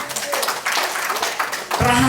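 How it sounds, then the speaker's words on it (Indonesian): Audience applause at a marketing-plan presentation, a short burst of many hands clapping, moderately loud and steady before fading into a different sound. "Tepuk tangan buat kita semuanya."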